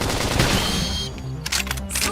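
Rapid gunfire from a hero-shooter style video game, dense crackling bursts layered with metallic clicks and game effects, loud and continuous through the whole moment with no speech.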